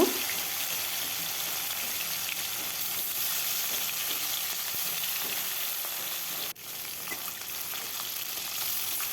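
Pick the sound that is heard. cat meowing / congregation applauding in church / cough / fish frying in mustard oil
fish frying in mustard oil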